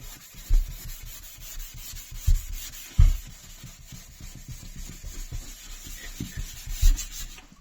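The Pink Stuff cleaning paste being rubbed onto a surface by hand, a steady close scrubbing rasp in repeated strokes with a few heavier thumps, no talking.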